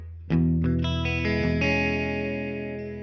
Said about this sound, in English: Let's go ahead and drop in some reverb because everything sounds weird without it.